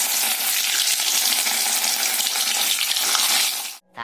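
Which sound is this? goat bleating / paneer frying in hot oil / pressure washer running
paneer frying in hot oil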